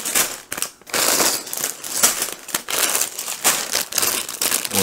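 Numbered plastic bags from a Qman Mine City building set being handled, giving continuous crinkling and rustling with repeated louder crackles close by, no voices.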